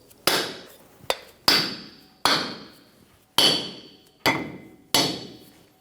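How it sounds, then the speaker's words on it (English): Seven firm, evenly spaced taps from a soft-faced hammer seating a dust cover on a Toyota Tacoma front axle, each a dull knock with a short ringing tail, close by and with no talking. "We're going to use a soft face hammer and tap this into place."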